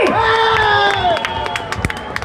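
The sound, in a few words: audience clapping and cheering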